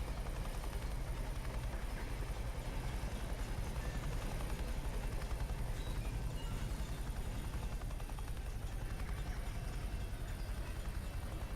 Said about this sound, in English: Let's go down and have a look at that chopper.